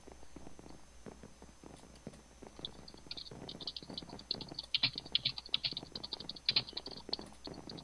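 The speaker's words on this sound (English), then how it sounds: "What are you typing?" Computer keyboard typing during a Minecraft game session, a close run of quick, irregular key clicks that grows busier and louder toward the end, with low background hum.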